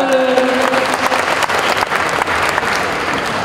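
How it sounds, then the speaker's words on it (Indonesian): Audience applause at a school event where a government minister appears as a speaker, a continuous, close, full burst of many hands clapping throughout. "tepuk tangan."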